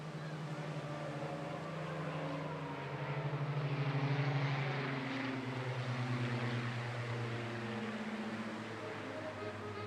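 A pair of Rolls-Royce Heritage Flight Second World War propeller aircraft drone steadily at an air festival, the deep engine tone rising and swelling as they approach, then holding loud and continuous.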